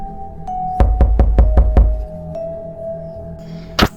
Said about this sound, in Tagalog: merong namang kumakatok sa kanyang pintuan